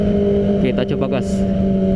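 A Kawasaki ZX25R motorcycle fitted with an Arrow exhaust runs with a steady, loud, humming engine note, and a voice talks briefly over it.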